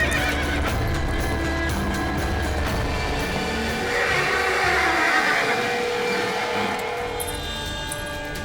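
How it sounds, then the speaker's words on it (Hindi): A horse in a royal stable neighing and whinnying repeatedly while hooves clip-clop, layered with dramatic background music throughout. "सारंग तो बहुत शांत अश्व है, परंतु आज क्या हुआ इसे?"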